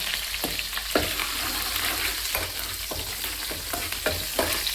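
Green chilies and curry leaves frying in hot oil for a tangy chutney, a dense continuous sizzle with occasional sharper crackles and stirring scrapes, close and fairly loud, no speech.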